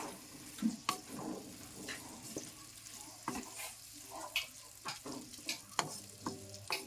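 Ginger garlic paste frying and sizzling in a pan, stirred now and then with a spoon in irregular scraping strokes over a steady, close sizzle; no one speaks.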